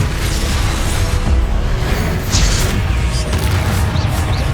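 Glacius and Depulso spells cast in Hogwarts Legacy combat, a continuous dense roar of magical blasts, whooshes and impacts layered with game music, loud and steady throughout.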